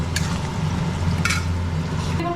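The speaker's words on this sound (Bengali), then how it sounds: "এই দেখো এখানে বসছি ভাজা, এটা হলো কাঁকরোল ভাজা, এটা হোক আস্তে আস্তে।" Teasel gourd (kakrol) slices fry in a pan on a home stove, giving a steady close hiss and sizzle with a few brief bright clinks of utensils, and no talking.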